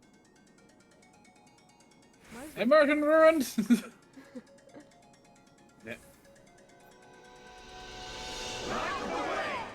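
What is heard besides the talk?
phone ringing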